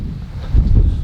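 Strong wind buffets the microphone on a frozen hiking trail, a steady low roar that surges louder halfway through, with gusty rumble and rustle and no talking.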